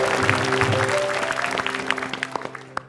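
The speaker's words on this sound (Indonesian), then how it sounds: "Tepuk tangan buat kita" A studio audience on a talk show claps in a dense wash over a sustained musical tone, thinning toward the end into a few separate, sharper claps.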